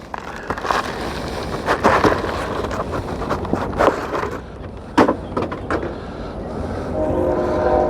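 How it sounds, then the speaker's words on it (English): A train rumbles past close by a garden, with a steady roar and rattling, sharp clanks of the cars, and a horn tone near the end. "Oh, maybe I can talk over the train."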